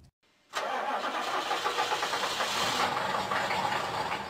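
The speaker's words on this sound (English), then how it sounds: "The sound of an old diesel Chevy truck on YouTube and the smoke." An old diesel Chevy truck engine cranks and catches after a short silence, then runs with a loud, rough, clattering idle close by.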